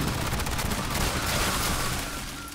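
Rapid sustained sentry turret gunfire in the Aliens Fireteam Elite video game, a dense loud unbroken stream of automatic shots filling the whole stretch, no voices.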